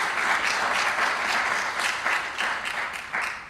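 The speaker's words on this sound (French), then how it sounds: "Je voudrais que vous acclamiez très fort Friends of Earth" Dense, sustained audience applause at the Forest Media Awards ceremony as Friends of Earth are cheered, many hands clapping loudly and evenly throughout.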